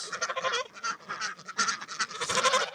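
Domestic geese honking noisily while waiting to be fed at breakfast time, a dense chorus of repeated loud honks and cackles close by, no talking.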